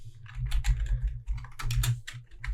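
Rapid typing on a computer keyboard, close and fairly quiet, as a steady run of clicking keystrokes over a low background hum.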